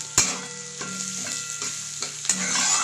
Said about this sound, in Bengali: এবার তেলের মধ্যে দিয়ে দেবো ডালগুলোকে। একটু নাড়াচাড়া করবো, ডালটা একটুখানি মানে হালকা করে ভাজবো